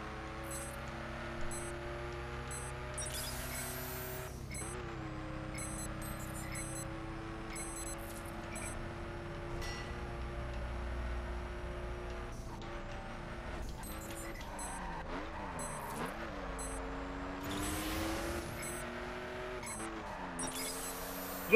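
A Hummer truck races in The Crew, its engine droning steadily with shifting revs, sporadic tire skids and faint electronic beeps over a continuous mid-level roar, no talk.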